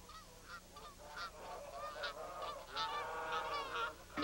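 A flock of geese in a cartoon give repeated nasal honks that overlap and come in bursts, faint and somewhat distant.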